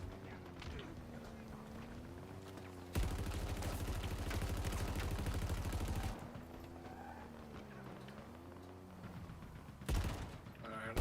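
Rapid turret gunfire in the video game Apex Legends rattles in a sustained burst of about three seconds, then a shorter burst near the end, while a voice talks over the game throughout.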